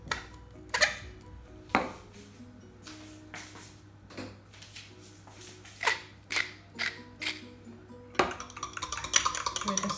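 Eggs whisked with cream, salt and pepper get stirred in a bowl, giving scattered clinks and scrapes of utensil against the dish, some sharp and close, with a busier clatter near the end.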